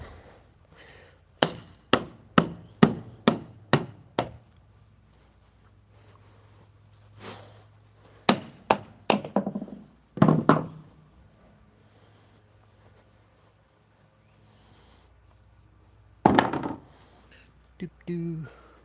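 A hammer strikes wooden blocks in bursts: a run of about seven evenly spaced sharp knocks, a pause, then a tighter cluster of blows, with a few scattered hits later against a quiet background.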